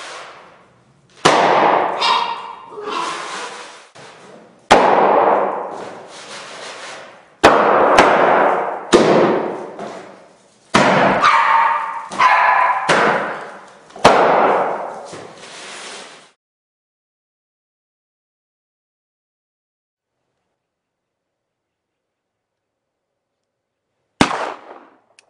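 Gunfire fired while training dogs to tolerate loud noise, a series of sharp cracks, each followed by a ringing decay, spaced every second or two. After a long silence comes one more isolated shot.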